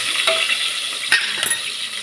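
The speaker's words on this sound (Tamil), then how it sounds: "வெங்காயம் மடங்குது." Onions fry and sizzle in a pan with a steady bright hiss, close by, broken by a few soft stirring scrapes.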